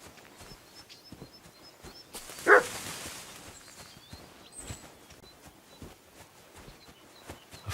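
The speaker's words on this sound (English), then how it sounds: "Barking? He's coming from over there." In a medieval village scene from Kingdom Come Deliverance 2, a dog gives a single sharp bark from a distance, standing out from quiet ambient background noise.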